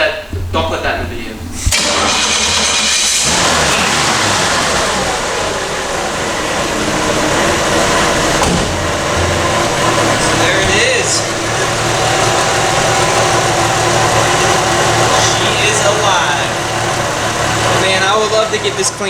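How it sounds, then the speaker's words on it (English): An old Camaro's engine idles steadily right after start-up, a continuous loud rumble filling the whole stretch with a brief cranking burst near the beginning. "I'll go ahead and start it up right now and just let you guys hear just how easy it starts up for how old of a car it is."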